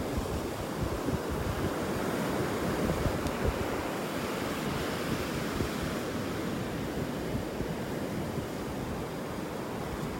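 Ocean surf rolls onto a beach in North Naples, Florida, a steady broad wash of breaking waves mixed with gusty wind buffeting the microphone, continuous and fairly loud with no voices.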